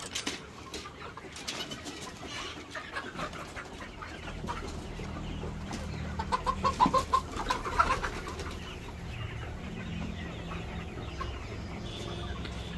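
Parent stock chickens on a poultry farm cluck and call over a dense, noisy barn background, with a burst of sharper clucking midway.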